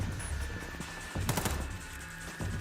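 Bursts of gunfire crackle in the Firefall game, a short rapid cluster of shots near the middle over a steady background hum, with no talking.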